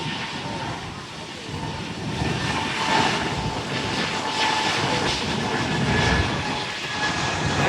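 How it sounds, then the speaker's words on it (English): A JetBlue Airbus A220-300, also called the Bombardier CS300, roars as it passes at an airport, a broad steady jet rumble that swells slightly in the middle and holds loud to the end. "The JetBlue Bombardier CS300 or A220-300 heading to Santiago in the Dominican Republic"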